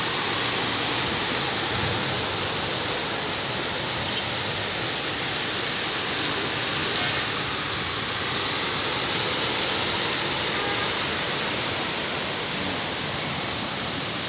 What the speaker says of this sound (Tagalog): Lakas naman ulan, lakas